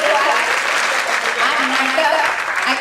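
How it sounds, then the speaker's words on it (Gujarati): Audience applause after a play about Anjana Sati, a dense, steady wash of clapping from many hands that stays loud and even throughout. "દરેક માટે આપણે જોરદાર તાળીઓથી વધાવી દીધી"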